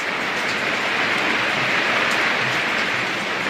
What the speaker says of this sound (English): it sounds really bad right now. It's mainly rain.